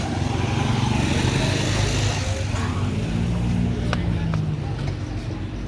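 Many motorized tricycles passing along a city street, a steady loud engine drone and rumble with changing pitch as vehicles go by, under constant traffic noise.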